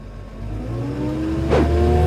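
Case Maxxum 140 Multicontroller tractor engine revving up steadily under load, with a rising harmonic drone and a brief shift in pitch around an automatic gear change, loud and continuous without talk.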